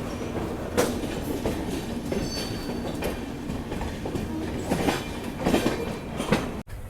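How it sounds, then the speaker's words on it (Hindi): The Sealdah–Bikaner Duronto Express runs at speed out of New Delhi, a steady rumbling roar of wheels on rails with rhythmic clacks and occasional sharp clicks, heard from inside the moving train. "अभी अपनी दुरंतो एक्सप्रेस निकल चुकी है नई दिल्ली रेलवे स्टेशन से"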